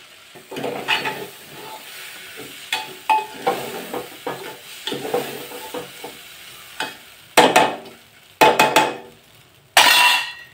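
Rice sautéing for lemon rice, stirred in a pan with a spoon, giving repeated scraping strokes and light clinks over a low sizzle, with a few louder, sharper scrapes toward the end.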